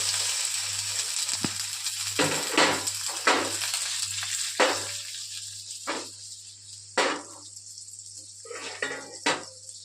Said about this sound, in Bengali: কড়াইতে তেলটা গরম হয়ে গেছে, এবার পনিরগুলোকে আমরা ভেজে দেবো